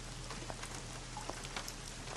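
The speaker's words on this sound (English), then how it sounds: "And this rain looks so real." Steady rainfall in the video game Syberia, a soft, even hiss of drops with faint scattered patters, quiet and continuous with no voices.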